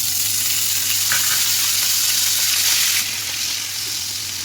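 Whole cumin seeds with ginger, garlic and onion paste sizzle loudly in hot oil in a pan, a constant dense crackling hiss that eases slightly partway through, with no voices.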